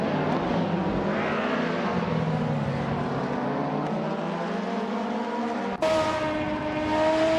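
Osella BMW ultralight race car engine in a racing video game, a steady high revving drone with rising pitch sweeps through gear changes and an abrupt shift near the end, loud and continuous.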